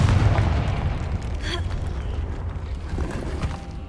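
A Confringo blasting spell explodes in the Hogwarts Legacy video game. It is a loud, broad boom at the start that slowly fades into a rumbling tail, with a brief crackle partway through.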